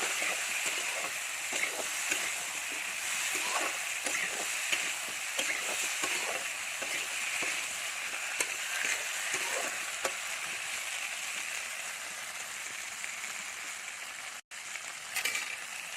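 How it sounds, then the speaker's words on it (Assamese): Elephant apple pieces sizzle and crackle steadily in a hot pan while being stirred, with soft scraping under a continuous, close frying hiss and no talking. "ভালকৈ লৰাই অলপ সিজিবলৈ দিম।"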